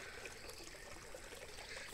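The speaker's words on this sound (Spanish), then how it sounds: "Miren, aquí pasa el río." River water streams steadily past farmland and apple orchards in rural Kashmir, a continuous close rushing wash with no voices over it.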